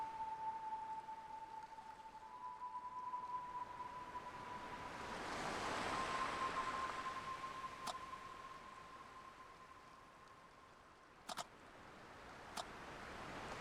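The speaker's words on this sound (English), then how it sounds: "The sound of the waves has a unique quality to it." Ocean waves by a lighthouse in the video game Without a Dawn: a soft, continuous surf wash that rises and falls gently, with a faint sustained tone running beneath it and a couple of brief ticks near the end.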